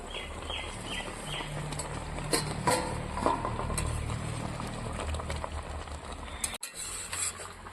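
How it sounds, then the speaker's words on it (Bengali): Egg curry with poppy seed paste simmering in a pan, a soft continuous bubbling and popping at close range with occasional clinks and a sharp knock near the end. "ডিমটা দিয়ে দিয়েছি এখন আমি আরো চার পাঁচ মিনিট ফুটিয়ে নেব"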